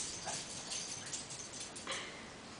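A pug whimpers and yips faintly a few times while attempting a rollover trick indoors, small soft cries over a steady room hiss.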